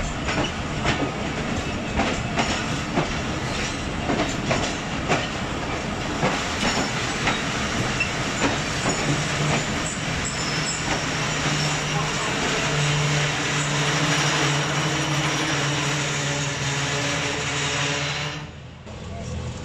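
Mehr Express passenger train rolling along the rails at night, a loud steady rumble with rhythmic clatter and hiss close by, the roar easing toward the end, with some voices under it.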